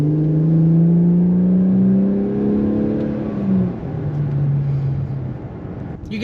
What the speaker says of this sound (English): You still get to hear those turbos kick in a bit more.